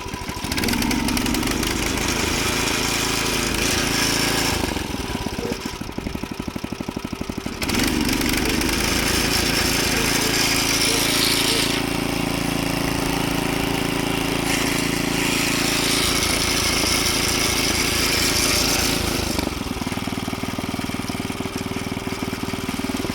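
1990 Task Force 5hp rototiller engine running after a carburetor replacement, a loud close-up small-engine chug that surges and dips several times, dropping to a quieter idle in stretches, with no talking.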